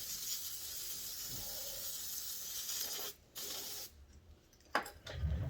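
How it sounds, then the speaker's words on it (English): Water sprays steadily onto a chainsaw crankshaft from a Stihl MS 461 being rinsed during a crankcase swap, a close, continuous hiss that cuts out briefly twice before a final short burst. "Just rinse it off"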